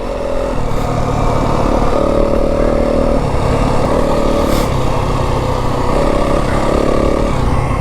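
Yamaha WR250F dirt bike ridden along single track in Kelly Canyon near Flagstaff, its engine droning loud and steady throughout with pitch shifting as the throttle opens and eases, plus faint clatter from the trail.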